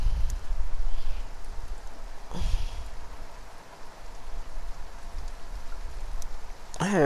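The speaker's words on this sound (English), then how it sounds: "I love the sound of rain." Steady, dense rainfall hisses throughout in the video game Farm Together, with a brief rustle partway and a faint warbling tone at the end.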